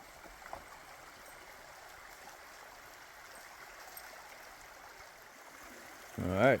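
A creek flows beside a hiking trail near the Cumberland River in Kentucky as a faint, steady rush of water. A brief louder sound comes near the end.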